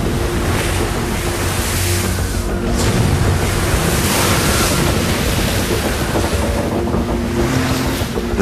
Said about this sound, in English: The relentless wind drives the seawater below.